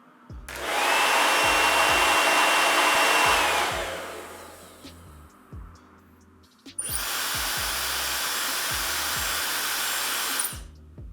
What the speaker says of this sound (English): audio footage of both my old blow dryer and this one